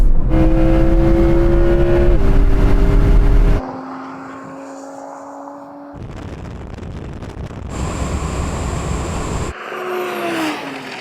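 Audi RS6 and Audi R8 accelerating hard side by side in a drag race, loud engine roar rising through gears with abrupt shifts and pitch sweeps, close and continuous with no talk.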